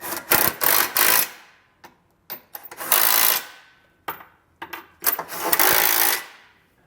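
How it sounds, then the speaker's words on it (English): An impact tool with a 3/4 inch socket snugs down trailer hitch hardware on a 2023 Toyota Highlander in loud, close, rattling bursts separated by short pauses. "we can come back with a 3/4 inch socket and snug everything down"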